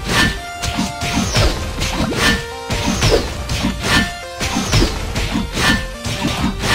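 Sword strikes landing on a large training dummy in Ragnarok Origin, a Swordman-line Lord Knight at level 50 with a +8 Nagan, heavy crashing hits with swishes repeating in a steady rhythm, loud and close.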